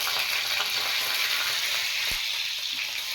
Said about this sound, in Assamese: তেলটো গৰম হৈছে, জিৰা দি দিছোঁ আৰু শুকান জলকীয়া দুটা দি দিছোঁ।